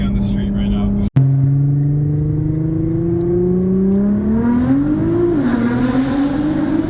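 Nissan GT-R race car accelerating hard on the road, its engine pitch climbing steadily in one long continuous pull, heard up close from an open-top BMW following it.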